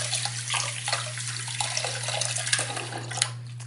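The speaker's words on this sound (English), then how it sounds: "I'm going to wash her with some clean water." Tap water runs steadily over a vintage Barbie doll being rinsed clean, a continuous splashing hiss with soft shifting gurgles as the doll moves under the stream, close and alone.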